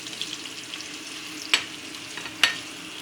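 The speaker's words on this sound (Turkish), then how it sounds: "100 gram kıymamı ilave edip kavuralım." Minced beef cooks with onion and green pepper in a pan, giving a soft, faint sizzle broken by two sharper scrapes of a spoon against the pan.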